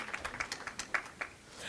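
A small audience at an elder advocacy and law boot camp claps briefly, a quick run of sparse, fairly faint hand claps that trails off within two seconds.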